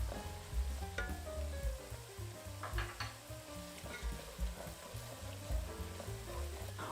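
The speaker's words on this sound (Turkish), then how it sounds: "Soğanlar hafif pembeleşene kadar kavuruyorum. Soğanlar kavrulduktan sonra hemen ardından sarımsakları ekliyorum." Onions with garlic added sauté in a pan for an ajvar sauce, a steady close sizzle with occasional utensil scrapes and stirring clatter, no talking.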